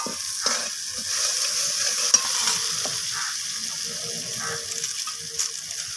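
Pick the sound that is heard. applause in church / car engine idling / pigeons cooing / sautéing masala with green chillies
sautéing masala with green chillies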